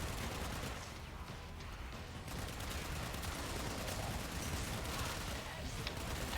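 Gunfire while shooting low-level enemies in Warframe, a dense, continuous barrage of rapid shots with some background speech mixed in.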